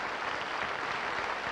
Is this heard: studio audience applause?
yes